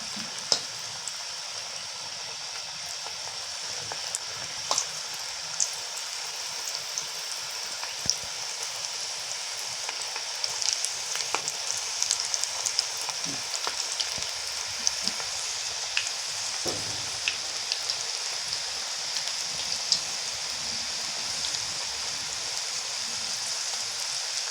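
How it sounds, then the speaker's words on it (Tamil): Small rava pakodas frying in hot oil give a steady, fine crackling sizzle with scattered pops, close and moderately loud and continuing without pause. "எண்ணெய் காஞ்செடுத்து சின்ன சின்னதாக பக்கோடா போட்டு எடுத்துக்கலாம்."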